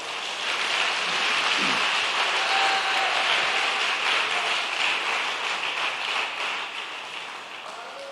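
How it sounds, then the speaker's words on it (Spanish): A church congregation applauds steadily for several seconds during a sermon, a dense, even wash of clapping that tapers slightly toward the end, with a faint voice briefly audible beneath it. "Den el aplauso al que vive, hermano."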